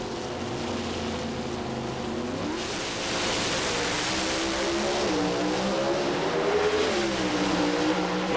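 Pro Stock drag cars at a 1995 NHRA race, Warren Johnson's Oldsmobile against Glidden's Ford, roar down the strip. Loud engine howls rise and shift in pitch through the run over a constant wash of track noise.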